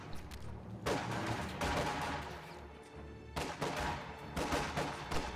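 MG42 machine gun fire in a World War II real-time strategy game rattles in sustained loud bursts, with overlapping gunfire and distant battlefield crackle in between.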